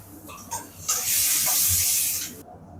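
Fennel seeds dropped into hot oil in a home kitchen while cooking mutton dishes, giving a few light taps and then a loud, close, steady sizzling hiss that holds for about a second and a half before cutting off abruptly.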